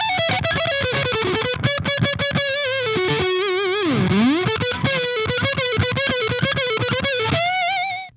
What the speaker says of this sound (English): If you add fuzz to staccato, it actually sounds very cutting, has a very cool sound to it.